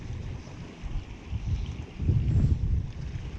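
Wind gusting into a microphone beside a trout stream in northeast Iowa, a low rumbling buffet that swells strongly around the middle and stays loud to the end, with no talk.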